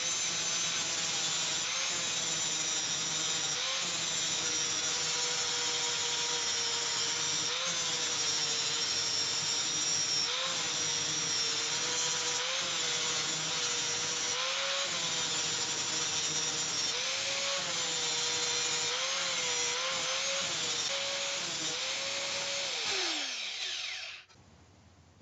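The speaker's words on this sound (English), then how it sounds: "just get an angle grinder with a flap disc and just try and smooth it out a bit" Angle grinder fitted with a flap disc smoothing a welded two-stroke exhaust pipe, a loud sustained abrasive whine with slight pitch dips under load, running continuously before spinning down at the end.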